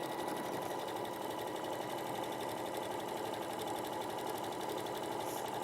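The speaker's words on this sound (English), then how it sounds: "sew all the way around, keeping that top edge free" A sewing machine fitted with a walking foot runs continuously through fabric, a steady, close mechanical whir with a fast even stitching rhythm and no pauses.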